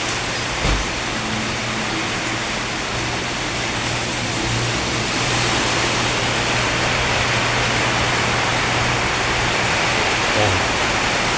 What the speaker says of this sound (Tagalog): Ang lakas-lakas ng submersible pump ko guys